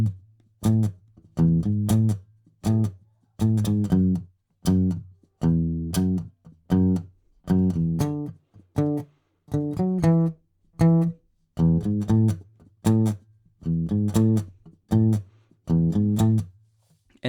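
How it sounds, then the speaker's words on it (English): A steady, repeating bass line of plucked low notes on a guitar, the opening of a song, played alone in an even rhythm with short gaps between phrases. "the song opens with the bass line"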